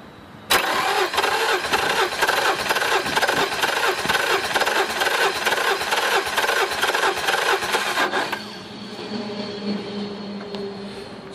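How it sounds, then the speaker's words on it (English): A Yamaha motor cranks over on its starter during a compression test, a loud, steady mechanical churn lasting about eight seconds before cutting off, leaving a quieter lingering hum. "we're going to crank this motor over until that gauge stops moving"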